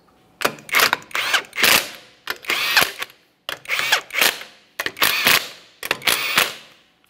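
A torque wrench tightens the wheel lug nuts on a 2010-2013 Kia Forte Koup, producing five loud, close bursts of rapid ratcheting clicks separated by short pauses.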